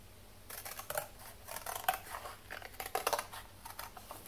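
Paper being cut with scissors around a drawn shape, snipping into corners from both ends; a run of short, crisp snips and rustles at close range, irregular in rhythm, with no talking.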